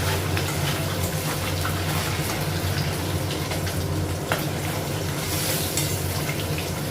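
Fish fries in a pan on a gas stove, giving a steady, close, crackling sizzle that continues without a break, over a low hum.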